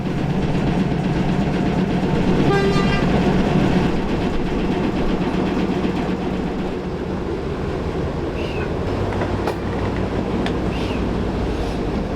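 A tank locomotive coupled to a Dogfish wagon and another engine is shunted at a station siding, giving a steady, loud rumbling engine drone with faint clanks and a brief squeal, heard alone.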